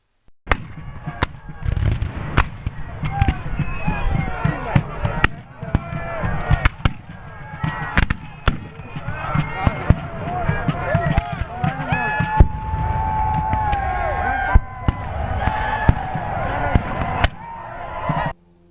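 Concentrated artillery and rifle fire in a Civil War battle at Natural Bridge, Florida: dense bursts of sharp cracks and booming blasts rattle on without pause, with a low rumble and other battle noise beneath.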